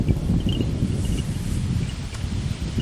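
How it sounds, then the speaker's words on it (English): Steady wind blows across an outdoor air rifle range, a broad low rumble of gusts buffeting the microphone continuously with no break, loud and close throughout. "the wind is actually coming a bit sideways on me"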